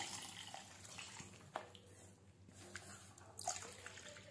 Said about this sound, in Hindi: तो अब मैं इसमें पानी डाल रही हूँ